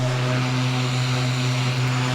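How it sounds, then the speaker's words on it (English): Grumman Mallard amphibian aircraft with its left piston engine turning over at start, a steady droning hum with strong low tones, constant and close throughout. "Left engine turning."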